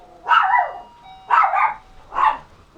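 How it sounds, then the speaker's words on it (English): A pet dog barks indoors, giving three separate mid-pitched barks spaced about a second apart, clear and fairly close with quiet between them. "Chat away, my doggy's barking."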